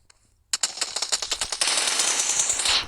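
Rapid gunfire from the PUBG shooter game, a near, loud burst of closely spaced automatic shots that runs into a sustained, dense rattle lasting a few seconds, with no talking.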